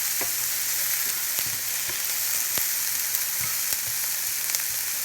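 Onions frying in a pan for a vegan breakfast give a steady, loud, close sizzle and crackle, with a few scattered pops and light stirring taps throughout and no talking.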